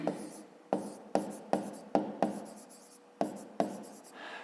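Pen or chalk writes out a maths solution in a series of sharp, rhythmic strokes and taps, close and fairly quiet, with short pauses between the marks.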